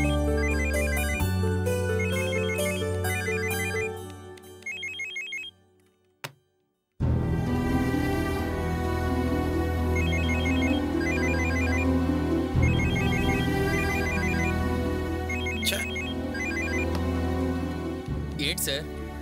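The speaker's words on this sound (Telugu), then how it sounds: "ఫోన్ అంతగా రింగ్ అవుతుంటే కట్ చేస్తున్నారు లిఫ్ట్ చేయకుండా" A mobile phone ringtone rings loudly and continuously as a repeating melodic tune, briefly cutting out before resuming for a long stretch, with speech present.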